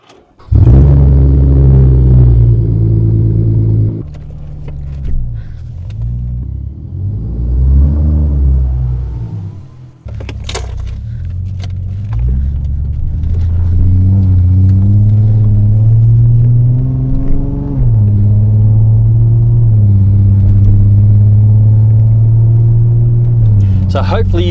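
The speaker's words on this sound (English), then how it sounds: "It sounds like a nice big fat V8, but it is deafening." V8 car engine with a custom exhaust, a deafening deep rumble close by that starts up, revs and dips, then settles into a loud steady idle with throttle blips, people talking over it.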